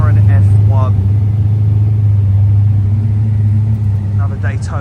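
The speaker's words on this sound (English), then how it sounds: "We've got a Koenigsegg, Jesko, and look at this, a Holy Grail McLaren F1." Koenigsegg Jesko and McLaren F1 hypercars rolling past in a Goodwood convoy, a constant heavy low engine drone with a slight dip near the end, and short bursts of speech over it.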